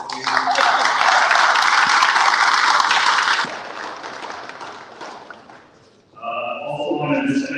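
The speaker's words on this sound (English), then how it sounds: "So give them a big round of applause." Loud audience applause at a cybersecurity lunch-and-learn event, a dense burst of many hands that holds for about three seconds, then thins and fades before a voice starts talking.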